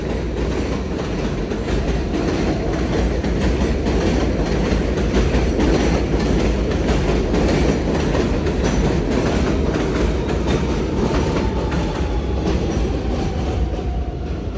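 A train passes close by, a loud, steady rumble with rhythmic rail clatter and faint wheel squeal that runs unbroken for about fifteen seconds, with no talking.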